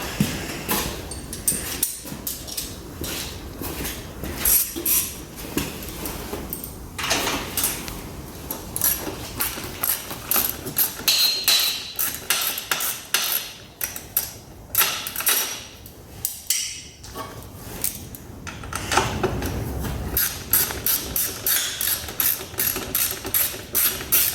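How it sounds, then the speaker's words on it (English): A socket wrench ratchets in repeated bursts of clicks while a motorcycle seat is being unbolted, with clanks and creaks of handled parts between, close and at moderate level, with no talking. "think I'll start by getting this seat off. Grab some sockets."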